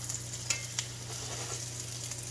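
Eggplant slices frying in oil in a skillet for eggplant parmesan, a steady low sizzle throughout with a few brief louder crackles, close and moderately quiet, no talking.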